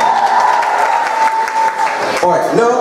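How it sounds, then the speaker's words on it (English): Loud, sustained applause for visiting colleges and universities at a career fair event, filling the room steadily, with a voice and a tonal sound rising over the clapping near the end. "Give them a big round of applause."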